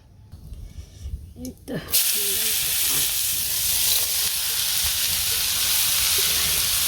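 Ash gourd shukto with turmeric and salt goes into a hot pan on a village stove, starting with a few soft clatters, then a loud, steady hiss and sizzle that runs on without a break.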